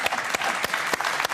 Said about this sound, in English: I'll applaud you, Anas.